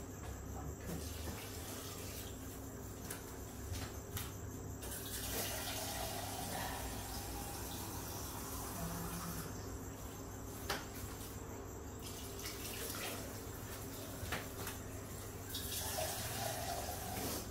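Water poured into a Thermomix while cooking Moroccan lentils, a faint continuous trickling and splashing that stays even throughout, with a low steady background hum.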